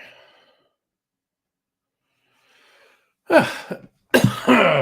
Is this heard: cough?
yes